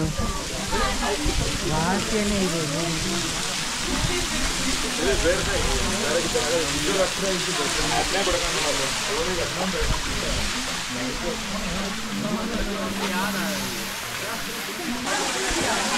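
Water pours steadily down a small roadside waterfall at Bababudangiri, a continuous close rushing splash, with people talking over it throughout.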